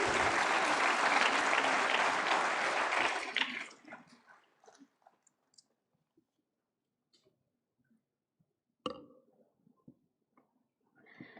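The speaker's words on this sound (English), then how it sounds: "Loud applause, please." An indoor audience at a national award ceremony claps loudly for a few seconds, then the applause dies away into near silence with only scattered faint claps and small noises.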